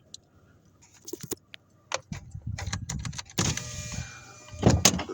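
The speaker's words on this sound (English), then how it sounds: "I roll my window down to make sure I don't lock myself out" A truck's power window rolls down with a motor whine, mixed with key jangles and clicks from inside the idling cab, close and fairly loud.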